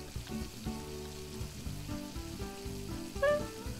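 Steak sizzles on a stove in the Plate Up cooking video game, a continuous frying hiss with layered game sounds and a short bright chime near the end.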